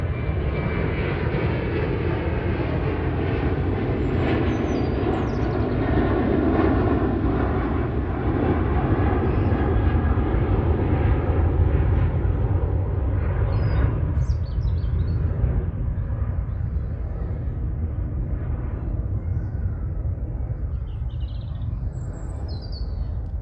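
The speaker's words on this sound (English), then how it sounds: "Even the sound of that plane passing over" A propeller airplane drones loudly overhead, a steady low engine rumble that swells and slowly fades, with faint bird chirps in the background.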